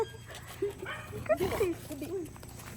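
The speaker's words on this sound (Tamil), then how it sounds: "எங்களை செல்ல பிராணிகளெல்லாம் குலைக்கலாம்" A pet puppy gives several short yips and whimpering barks at close range, scattered across the moment while people talk nearby.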